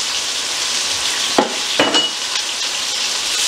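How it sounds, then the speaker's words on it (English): Chopped onion sizzles steadily in a hot pan, a continuous frying hiss with a couple of brief stirring scrapes partway through; no talking. "we're gonna add our chopped onion, and we're gonna cook that till it's translucent or see-through."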